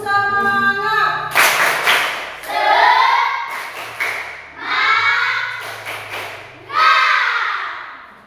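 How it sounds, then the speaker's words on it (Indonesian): Schoolchildren standing in a classroom perform a rhythmic spirit clapping routine, chanting together in bursts while sharp group claps land in repeated rounds close by. "Tepuk semangat."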